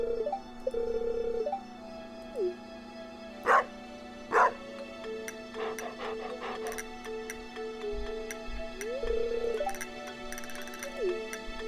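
A dog barks in the farming game Stardew Valley, two sharp woofs amid looping game music with chirpy melodic tones and scattered ticking effects.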